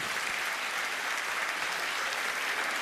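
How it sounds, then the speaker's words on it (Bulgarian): Dense audience applause at a concert fills the whole stretch, steady and loud with no voices on top. "Заповядайте, аплодисменти!"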